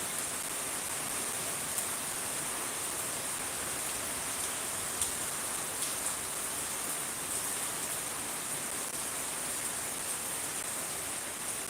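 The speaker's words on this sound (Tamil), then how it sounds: "மழையை பாருங்க தம்பி." Rain falling steadily, a dense, even hiss that holds at a constant level throughout with a few faint ticks and no voices.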